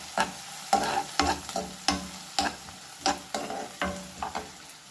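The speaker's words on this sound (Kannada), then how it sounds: "ಫ್ರೈ ಮಾಡ್ತಾಯಿದ್ದೀನಿ." Food fries in a pan with a steady sizzle, broken by a regular series of sharp scraping knocks as a spoon stirs it, about one every half second, close and clear with no talking.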